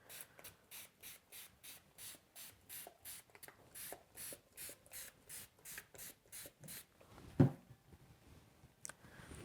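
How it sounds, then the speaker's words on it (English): A spray bottle mists watercolor paints on a palette in a quick, even run of about twenty soft hissing squirts, close and fairly quiet, followed by a brief clatter. "And my paints need a good spray."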